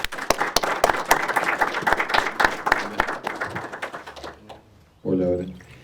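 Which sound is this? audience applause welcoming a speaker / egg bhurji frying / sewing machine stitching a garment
audience applause welcoming a speaker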